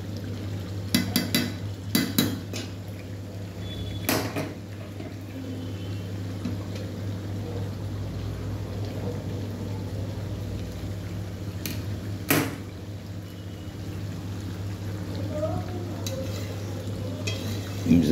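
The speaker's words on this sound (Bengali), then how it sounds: "আমি একটু নাড়াচাড়া করে দিচ্ছি যাতে নিচটা আটকে না যায়।" Food being stirred in a pot so the bottom doesn't stick, with scattered utensil scrapes and knocks over a steady low hum and quiet cooking noise.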